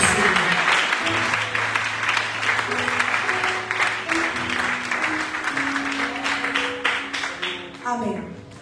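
A church congregation applauds and cheers together during an evening vigil service, a sustained, dense clapping that rises quickly and holds steady for several seconds before thinning out, with a held musical tone underneath.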